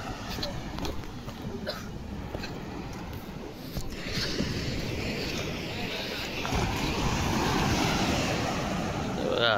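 Ocean waves wash steadily onto Daman beach in Gujarat, a broad continuous roar mixed with wind buffeting the microphone; a voice speaks faintly under the surf.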